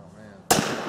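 A Smith & Wesson 500 revolver fires a single sharp, loud close gunshot midway, following a low murmur of voices, with a ringing rumbling tail after the blast.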